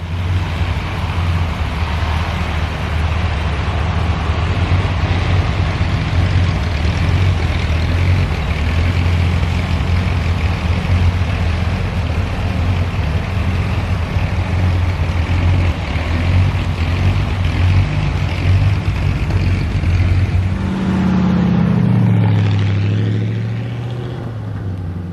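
A 1937 Ford Model 78 five-window coupe with a flathead V8 drives along, its engine droning steadily with a low rumble and road noise for most of the stretch, then a brief rise and change in pitch near the end.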